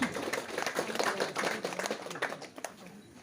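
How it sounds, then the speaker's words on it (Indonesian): Scattered hand clapping from an audience at an official inauguration ceremony in East Lombok, with the regent and provincial police present, moderately distant and uneven, tapering off toward the end with voices under it. "Tepuk tangan."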